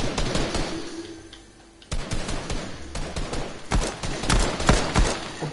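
Rapid gunfire bursts from a Fortnite Chapter 2 match, loud sharp cracks clustering densely after a quieter opening stretch, with clicky transients scattered throughout and no talk.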